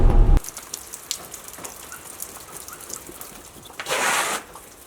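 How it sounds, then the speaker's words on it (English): Steady rain falls outdoors as a soft, continuous hiss that swells briefly louder near the end, with a short thump at the very start. "It's raining out."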